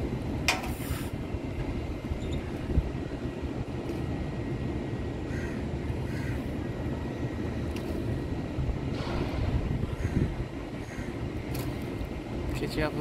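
An airplane taking off at Kuala Lumpur's airport during a layover gives a steady, broad jet roar that fills the whole stretch, with faint background voices and terminal noise mixed in.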